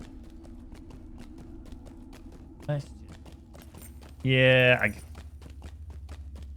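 Horse hooves walk in the game Lord of the Rings Online, inside the dwarven halls of Moria, a soft, regular clip-clop ticking along under a voice, with a louder burst of sound partway through.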